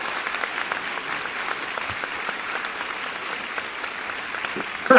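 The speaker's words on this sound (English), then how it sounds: "It's a standing applause." Sustained applause from a crowd, dense steady clapping that carries on evenly throughout without pause.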